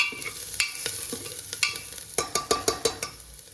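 Garlic and onion sauté in a pan for moong dal khichdi, with rhythmic spatula scrapes and taps over a soft, steady sizzle, close and moderately quiet.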